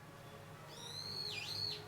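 A person imitates a bird call with a high, thin whistle that rises, dips sharply and climbs again in a single phrase about a second long, close and clear over a quiet background hum.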